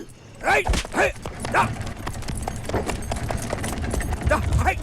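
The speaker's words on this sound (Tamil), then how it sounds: "நீ குதிரையை கிளப்பு" Horse hooves clip-clop in a steady rhythm in a Tamil comedy scene, close and fairly loud, while someone speaks over the start and the clopping carries on beneath.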